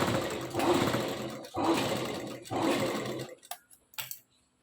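A sewing machine stitches folded salwar fabric in three loud, steady bursts of rapid needle chatter separated by short pauses, then stops with a few light clicks and knocks of handling the cloth.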